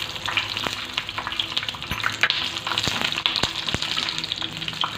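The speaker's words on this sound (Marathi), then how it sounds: "आता या मिरच्या आपण सगळ्या तेलात सोडून चांगल्या डाग होईपर्यंत भाजून घ्यायचे तेलामध्ये" Green chillies fry in hot oil with a dense, continuous crackling sizzle and frequent sharp pops and spits, close and fairly loud, without speech.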